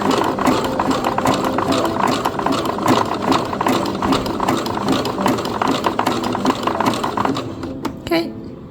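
Sewing machine stitching a fabric seam, a rapid steady mechanical clatter running close and continuous, winding down at the very end, with someone talking over it.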